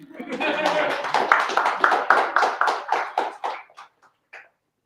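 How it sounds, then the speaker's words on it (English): Applause from an audience at a livestreamed pitch event, with brisk clapping that swells, then thins into a few scattered claps before stopping. Nobody speaks over it. "Big applause."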